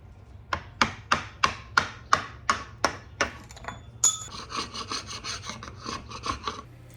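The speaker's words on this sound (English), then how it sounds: "I removed the bracket and scraped off what I could." A hand scraper strips old finish from a roughly 100-year-old antique wooden desk, with about ten sharp, evenly spaced rasping strokes up close, followed by a softer, busier stretch of scraping.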